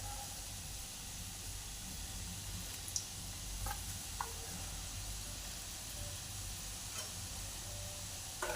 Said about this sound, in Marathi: व राहिलेले मोदक आपण तळून घेऊया.